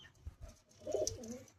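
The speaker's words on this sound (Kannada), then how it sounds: "ನೋಡಿ, ಇಲ್ಲೂ ಪಾರಿವಾಳಗಳು ಐತೆ." Pigeons cooing in a loft, with soft, rounded coos swelling near the end of the short stretch against a quiet background.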